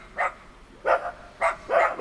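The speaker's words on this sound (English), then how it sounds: "barking up there in the window. window. That's why he's barking." Dachshund-type dog barking from an upstairs window during a snowstorm, four separate sharp barks spaced out over two seconds, moderately distant.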